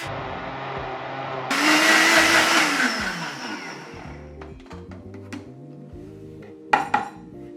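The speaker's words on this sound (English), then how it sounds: "Blending will mix the two ingredients thoroughly" A blender whirs loudly for a couple of seconds, mixing raspberry foam ingredients with lecithin for an inverted Clover Club cocktail, then spins down, followed by light clinks and a sharp knock of kitchenware.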